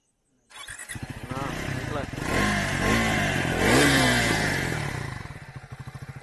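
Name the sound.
Triumph Scrambler 400 XC motorcycle exhaust sound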